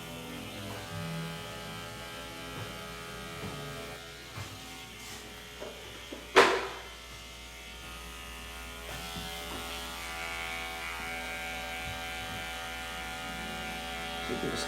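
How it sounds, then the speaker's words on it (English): An electric hair clipper buzzes steadily at low level while its tips cut and break up a short pixie haircut, with one sharp click or snip about halfway through and no voices. "I'm just using the tips of the clipper here."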